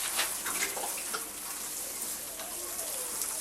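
Water pours and patters steadily onto green bean plants and soil, a soft, continuous splashing spray close by that carries on without pause.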